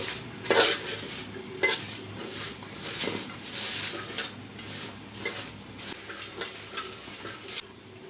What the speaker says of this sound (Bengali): একটু অনবরত নাড়তে হবে উপরেরগুলো নিচে যাবে নিচেরগুলো উপরে আসবে